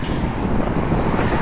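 Strong wind in Manchester buffets the microphone, a loud continuous low roar and rumble with no other sounds.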